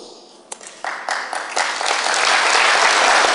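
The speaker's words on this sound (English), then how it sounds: "You're applauding that?" A lecture audience at London Z Day 2011 begins with a few scattered claps that quickly swell into sustained, full applause filling the hall.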